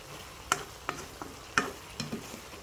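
Chili goes into pork dinuguan in a pan with a series of sharp clinks and scrapes from stirring, over a faint sizzle, spaced irregularly.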